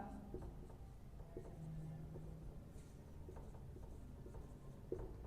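A teacher writing notes on a Hindi lesson: a faint, continuous scratch of pen or chalk strokes with light taps, over a soft steady background hiss and no talking.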